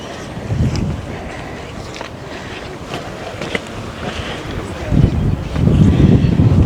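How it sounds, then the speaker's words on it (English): Wind gusting across a hilltop in Athens, buffeting the microphone with low rumbling bursts near the start and swelling again toward the end. "Oh, that wind is lovely."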